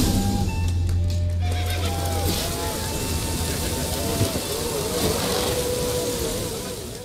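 Geralt's horse Roach in The Witcher 3 gives a clear whinny with hoof clip-clops, set against a steady outdoor bed of rain-like noise.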